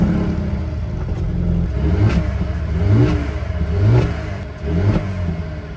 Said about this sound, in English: listen to the sound from the engine